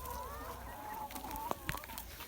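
Hens on a farm cluck softly and continuously nearby, with a couple of sharp short calls standing out near the end.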